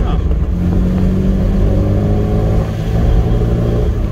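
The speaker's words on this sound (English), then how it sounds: "Engine sounds great, exhaust note is great." An MG Midget's engine drones steadily with a throaty exhaust note, loud and close, holding a fairly even pitch.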